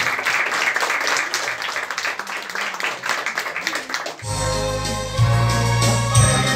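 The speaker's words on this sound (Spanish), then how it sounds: "Fuerte los aplausos, todos los invitados, vamos." Guests at a fifteenth birthday party in a salon clap together for several seconds, dense and steady, before it gives way abruptly to loud party music with heavy bass.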